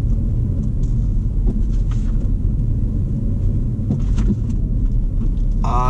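Ford Focus ST being driven, a steady low engine and road rumble heard from inside the cabin, loud and continuous with small bumps and rattles, no speech.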